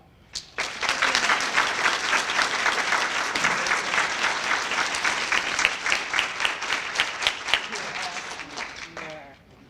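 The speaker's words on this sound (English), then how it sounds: "let's give her another round of applause" Warm applause fills a hall at an academic excellence banquet, rising quickly and holding steady for several seconds before tapering off as a voice begins to speak near the end.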